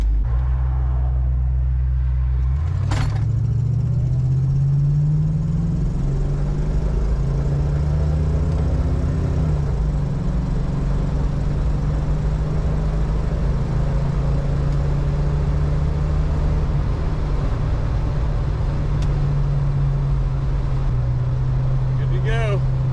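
A 1985 Ford Mustang 5.0 LX with a flat-tappet 5.0 swap, running rough, winds up through a hard acceleration pull, its loud low engine drone rising in pitch, dipping at a shift, then climbing again, with some talk over it.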